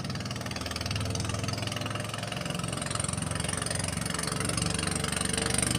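A fishing boat's engine drones steadily at sea off Burias Island, a loud, constant mid-to-low throb with fast pulsing and no pauses, heard alone without voices.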